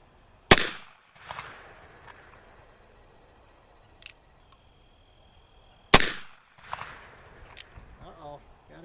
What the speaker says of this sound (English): I got 3 shots to try it from 10 yards.